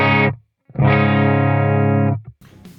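An electric guitar plays through a dry amp with no reverb: a distorted strum rings briefly and cuts off, then a longer sustained chord holds for over a second and stops abruptly, close and loud.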